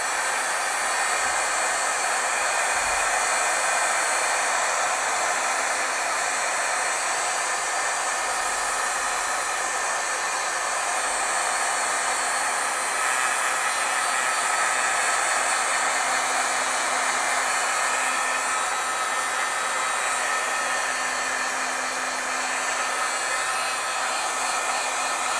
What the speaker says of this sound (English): Okay, let's heat set.